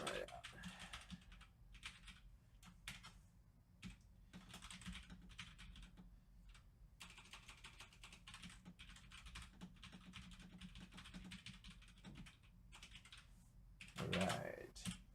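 Code being typed for a JavaScript switch statement on a computer keyboard, with quick irregular bursts of close key clicks and short pauses, under faint background and a brief louder sound near the end.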